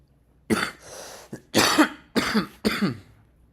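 Four harsh coughs in quick succession, close to the microphone, with short silent gaps between them.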